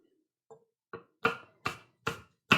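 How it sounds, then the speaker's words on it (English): Knife chopping through food on a kitchen cutting board, five to six crisp, separate thuds that come at a steady pace and grow louder after a few soft first cuts, close by with no talking. "It's the sound of chopping"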